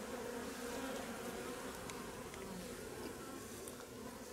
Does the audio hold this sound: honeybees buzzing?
yes